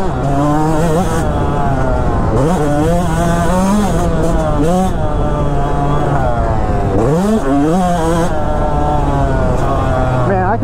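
Yamaha YZ125X two-stroke dirt bike engine revving up and down repeatedly, loud and close, with sharp rising and falling blips between steady idling stretches.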